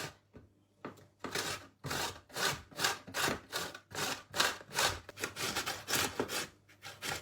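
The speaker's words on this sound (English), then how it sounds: "And I've decided I'm going to grate them." Vegetables rubbed against a hand grater for a cheesy frittata, giving a steady run of close, loud rasping strokes in an even back-and-forth rhythm, with no talking.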